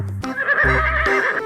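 Toy horse gives off a recorded whinny, a short high shaky neigh lasting about a second, loud and close with a thin electronic tone.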